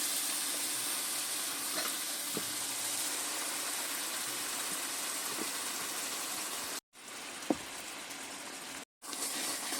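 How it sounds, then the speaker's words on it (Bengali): Jaggery heats in a wok with a steady soft sizzling hiss, a few faint clinks, and two brief cuts to silence, no speech. "এই কড়াইতে দিয়ে দিচ্ছি গুড়"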